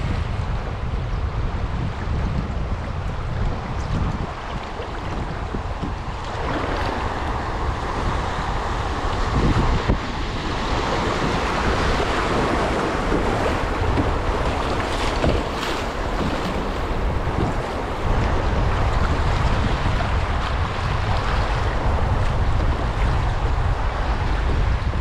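Rushing water of river rapids on the Lower Ouachita River, heard while floating downstream from Remmel Dam, a loud, continuous roar with wind buffeting the microphone and no voices.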